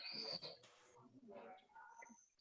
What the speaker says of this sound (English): Ooh, got some cool bird sounds.